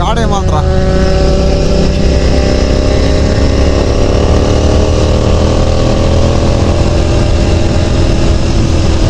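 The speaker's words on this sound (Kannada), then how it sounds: "ಒಂದು 600cc ಬೈಕ್ ಅದು." Benelli TNT 600 600cc motorcycle riding along a green country road, its engine droning steadily and loud throughout with rising and falling harmonic pitch as it revs, a strong continuous close roar.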